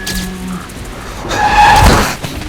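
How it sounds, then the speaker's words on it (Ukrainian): A car skids in Metro: Last Light, a loud tire squeal and sliding engine rush swelling in the middle and fading out, with a few tonal game sounds before it. "Оце так автомобіль!"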